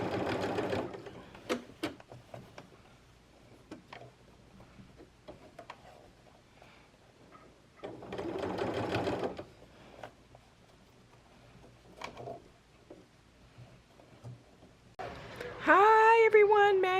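Sewing machine stitching understitching on a facing for a Burda 5803 sewing basket, running in a few separate bursts with quiet pauses between and a short squeak near the end.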